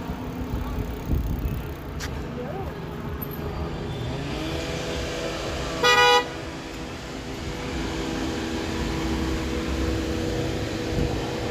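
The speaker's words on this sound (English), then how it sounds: "Honk honk." A car horn gives a short honk on a downtown Toronto city street, one brief blast rising out of a steady wash of traffic and wind noise.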